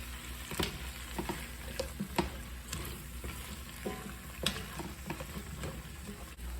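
Tomatoes and beef short ribs get stirred around in a pan, quiet sizzling broken by repeated scraping and clinking strokes of the utensil at an irregular rhythm, close up with no voices.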